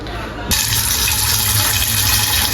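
Water gushes into a pot to rinse lentils in a home kitchen, starting suddenly after a short quiet moment and then running loud and steady to the end.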